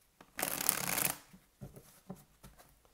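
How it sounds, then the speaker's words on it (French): Tarot cards being shuffled and drawn in a steady, close riffling burst of about a second, followed by a few soft, separate slaps and flicks as single cards are laid down. "pendant que je tire les cartes"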